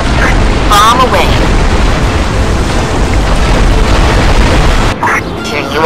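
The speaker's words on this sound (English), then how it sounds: "Bomb away." A bomb dropped from a plane in the Iron Wings flight combat game explodes with a loud, sustained rumbling boom that fills the whole stretch and dips briefly near the end.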